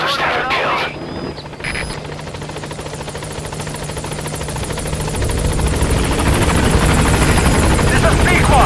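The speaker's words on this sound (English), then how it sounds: "I'll send the extraction chopper." An extraction helicopter arrives in a Metal Gear video game, its rotor drone building steadily from a brief opening rush into a loud, close, sustained beating roar.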